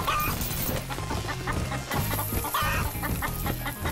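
Chickens clucking in the video game Call of Duty: Black Ops 3, repeated loud bursts of clucks and squawks over rhythmic game music and effects.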